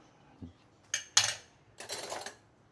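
Metal spoon and cutlery clink and rattle against a bowl of meatball mixture: two sharp clinks, then a longer jangling burst, close and fairly quiet, with no voices.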